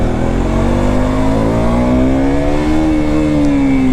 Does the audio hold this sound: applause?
no